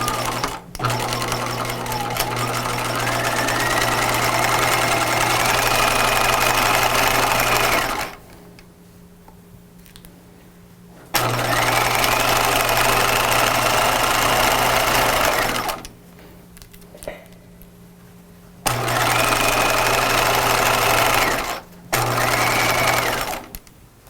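A sewing machine stitches a pajama seam in three long, loud bursts of steady mechanical whirring, with quiet gaps between them and a brief back stitch near the end.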